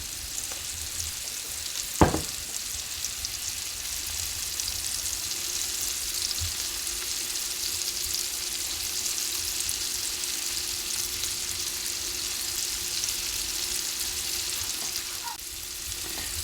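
Venison tenderloin steak seasoned with Himalayan salt fries in a hot pan, giving a loud, steady, close sizzle throughout, broken once early by a brief sharp clink.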